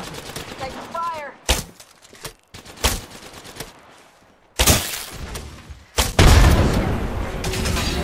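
Gunfire from an Apex Legends match: sharp, loud single shots and short bursts spaced irregularly, followed by a sustained heavy barrage with booming impacts near the end.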